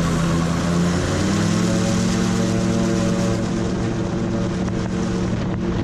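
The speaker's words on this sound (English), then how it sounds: "the job of rotating the rotors up to the speed required for flight is being done more by the engine than by the air rushing towards us as we accelerate down" A gyrocopter engine runs at steady high power as the aircraft accelerates down a short, bumpy runway on its takeoff roll, a loud, continuous droning roar with a faint rise in pitch and no voices.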